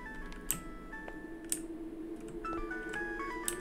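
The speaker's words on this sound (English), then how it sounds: "I mean, it's a phone, I know." A phone in a video game rings in sustained electronic tones over a low hum, broken by a few sharp clicks, with no talking.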